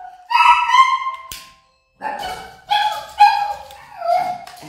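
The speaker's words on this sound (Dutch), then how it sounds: "Mijn hond is aan het grommen." A dog gives a close, loud series of whines and whimpers. There are several drawn-out, pitched cries with short pauses between them, and no speech.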